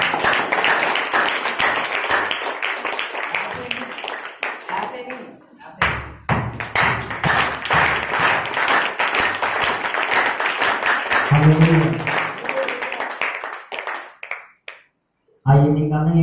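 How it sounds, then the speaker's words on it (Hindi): A church congregation claps loudly and rhythmically for God during a Hindi-language sermon, broad dense clapping filling most of the stretch, with a few short spoken bits and a brief pause near the end. "आइए ताली बजाएंगे परमेश्वर के लिए जोर से"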